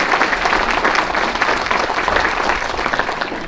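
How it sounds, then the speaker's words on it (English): An audience at an outdoor lodge ribbon-cutting ceremony at a park claps steadily in a sustained, dense round of applause, with no voices over it. "Can y'all give them a big round of applause?"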